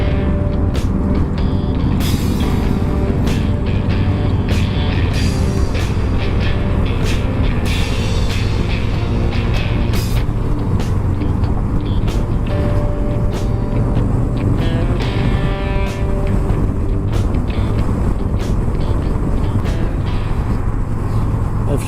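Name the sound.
Harley-Davidson motorcycles riding by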